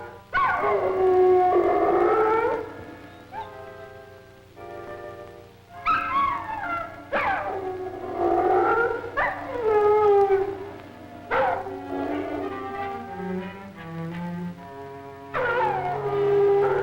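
A dog howls indoors in an old mystery film, long rising and falling wails repeated in several drawn-out phrases, loud and close with no voices over them.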